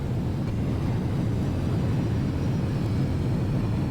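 Antonov An-225 airliner on its takeoff roll in a flight simulator game, heavily loaded and overrunning past normal takeoff speed: a steady, loud, dense engine roar with rumble, continuous and unbroken throughout.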